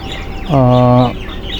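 A single loud, drawn-out call lasting about half a second from a tiger-coloured 'bird' breed farm chicken, roughly 37 days old, standing alone against quiet background noise.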